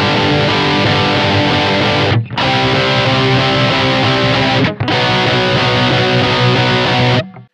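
Distorted electric guitar strums the chords of a song, a dense, loud, sustained wall of sound broken by two short gaps before cutting off.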